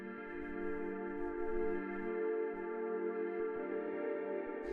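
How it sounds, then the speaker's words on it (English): A soft, sustained FM synthesizer pad holds a steady chord with a rich harmonic tone, shifting to another chord near the end, with no voices. "The next sound that we have here is the second pad"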